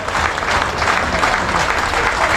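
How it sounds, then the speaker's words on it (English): Crowd at a non-league football match between South Shields FC and Banbury United applauds a player being substituted off, a steady, dense wash of clapping filling the whole stretch without a break. "Deserves a round of applause."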